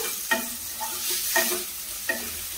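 Potatoes frying in a pan for sago upma sizzle steadily, close and clear, while a few distinct stirring scrapes of a spoon break through at intervals, with no voices.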